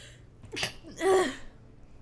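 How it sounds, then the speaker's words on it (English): A single person sneezes once, a short sharp burst with a quick intake of breath just before it, close and clear against a quiet background. "Oh god, I'm gonna sneeze."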